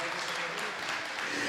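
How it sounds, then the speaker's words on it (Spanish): Church congregation applauding during a sermon, a steady dense wash of clapping filling the whole moment at moderate level, with faint voices mixed in. "un aplauso para los primeros"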